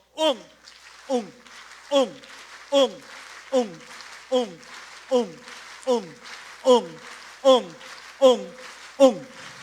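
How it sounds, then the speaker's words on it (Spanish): A lecture audience at a talk on Peruvian viceregal music claps both palms together in time, about a dozen evenly spaced claps, each paired with a voice counting the rhythm aloud. "y ustedes tocan las dos palmas."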